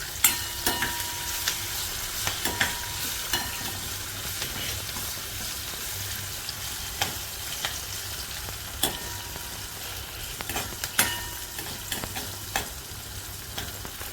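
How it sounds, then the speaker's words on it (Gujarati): Curry leaves and onion sizzle in hot oil in a pan for Rajasthani kadhi, a steady low frying hiss with occasional stirring clinks and scrapes, close and continuous with no talk. "પછી લીમડો નાખીશું. લીમડો પછી ડુંગળી નાખીશું."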